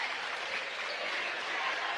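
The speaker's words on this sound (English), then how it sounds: "you hear the crowd a little bit starting to feel it" A basketball crowd in a gymnasium gives off a continuous, moderately distant wash of cheering and clapping, with no single voice standing out.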